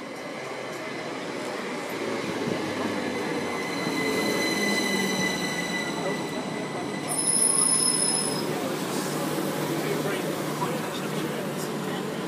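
A Southern class 377 electric train moves through Watford Junction station, a steady rolling rumble with high-pitched wheel squeals and a louder passage midway, heard under station ambience.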